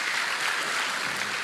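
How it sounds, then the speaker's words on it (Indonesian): A church congregation applauds a man in a wheelchair, a dense, steady wash of clapping from many hands filling the hall at moderate loudness. "Beri tepuk tangan buat Bapak ini nih"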